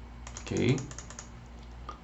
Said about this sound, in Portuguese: Vou apertar o Shift aqui no meu teclado, apertar e manter apertado